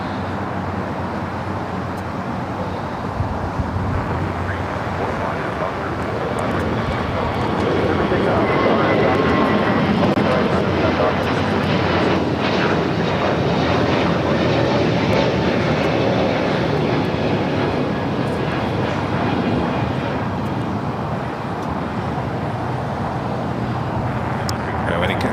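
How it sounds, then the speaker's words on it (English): A KLM airliner touches down on the south runway at LAX, its engine roar steady and loud, swelling in the middle and then easing off as it rolls out. "Looks like we have KLM Flight 601 touching down here on the south side."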